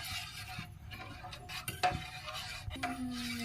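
A jelly mixture is stirred in a pan on a low stove flame, giving soft scraping and light clinks of a utensil against the metal over a few seconds, with one sharper knock partway through.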